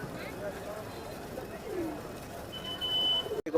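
Pigeons coo at a busy pigeon market in Tongi bazaar, soft throaty cooing under steady crowd chatter and nearby talk, with a faint whistle near the end.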